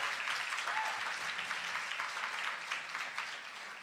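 An audience at a music therapy coffeehouse applauds steadily with dense, even clapping at moderate, slightly distant volume that tapers toward the end, with no talk over it.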